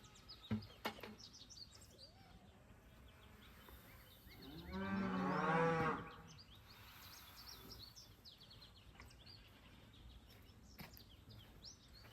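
Feeder calves moo once, a single loud drawn-out call amid faint background birdsong on a farm.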